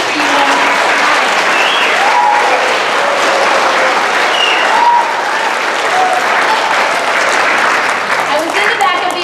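Sustained, dense applause fills a school auditorium as the audience claps for first grade performers, steady and loud throughout, with voices faintly mixed in.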